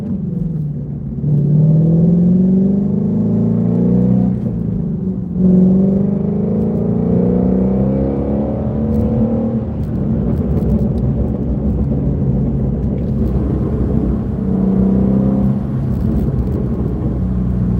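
First-generation Shelby GT350 engine while driving, heard from the cabin with the windows up as a steady loud, low rumble that climbs through repeated rising rev sweeps with gear changes over about eighteen seconds.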